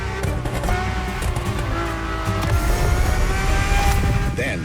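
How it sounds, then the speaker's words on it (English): Ferrari F50 with a naturally aspirated V12 in The Crew Motorfest, engine roaring loud and steady while revs climb. Tires squeal under the engine note. "The F50's core is a normally aspirated V12 that came straight from a Formula One."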